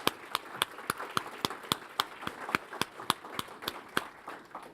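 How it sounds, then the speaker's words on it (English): Audience clapping for the marketing team at a business event comes through as a fairly quiet, regular run of distinct claps, steady in tempo with little else around it. "so a round of applause for you too"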